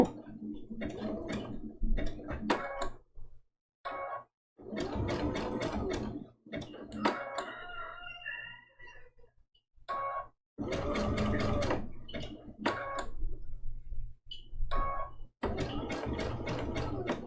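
A home sewing machine zigzag-stitching raw-edge appliqué on a Christmas ornament trivet quilt, running in several steady mechanical bursts with short pauses between, close and fairly quiet, no talking.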